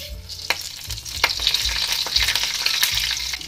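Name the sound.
dry-roasting whole spices in a pan for palak kofta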